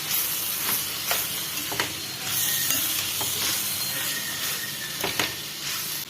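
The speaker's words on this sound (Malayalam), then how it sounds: "ഒന്ന് മിക്സ് ചെയ്ത് കൊടുക്കാം" Beans and carrot thoran being stirred in a pan, a steady close sizzle with scraping strokes of the spoon recurring every second or so, no voices.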